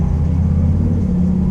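A white Chevrolet Camaro passes on the street, its engine giving a steady, loud, low rumble that holds evenly throughout, with no voices.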